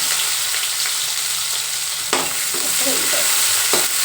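Onions fry loudly in a pan for gongura chutney, a dense close sizzle with a couple of sharp stirring scrapes partway through.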